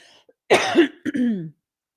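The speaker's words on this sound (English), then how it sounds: "I'm sorry I keep coughing in your ears." A woman coughs close to the microphone, two quick harsh coughs in a row, the second with a throaty, voiced tail, in an otherwise quiet room.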